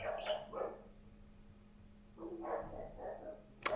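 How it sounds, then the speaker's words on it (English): Several dogs bark in short bursts, two clusters of yips and barks with a quiet gap between them, moderately distant and alone without speech. "Lots of dogs barking."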